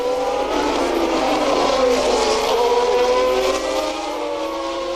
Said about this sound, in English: Possibly a broken exhaust pipe, that sort of noise.